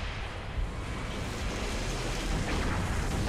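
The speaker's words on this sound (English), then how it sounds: "Let me just throw a couple grenades in there." Grenade blasts in the video game Halo: Reach, heard as a dense, roaring wash of explosive noise that rumbles on steadily for several seconds without pause.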